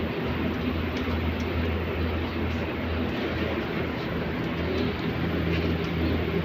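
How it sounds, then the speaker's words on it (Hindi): Pigeons in Saudi Arabia kept in a coop, a steady low cooing murmur running throughout beneath constant background noise, no talk. "ये देखे कबूतर,"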